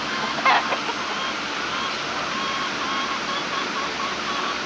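Pet chickens at feeding time, with faint clucks over a steady hiss of background noise.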